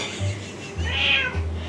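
A pet cat meows in a kitchen, two or three short close calls in quick succession, loud and clear with no talking over them.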